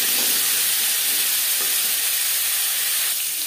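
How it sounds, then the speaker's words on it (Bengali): Cauliflower and beans frying in hot oil with dried chilli, a steady dense sizzle and hiss throughout, close and fairly loud with no talking. "শুকনো লঙ্কা ভেজে নেওয়ার পর দিয়ে দেবো ফুলকপি আর শিম"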